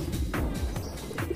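A male Modena crossbreed pouter pigeon coos, its inflated crop giving low, throaty, repeated rolling calls close to the microphone.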